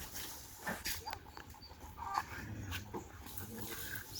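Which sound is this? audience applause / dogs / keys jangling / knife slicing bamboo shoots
dogs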